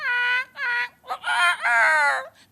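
A man mimics chickens with his voice: four strained, harmonic clucking and crowing calls in quick bursts, loud and close, with no speech in between.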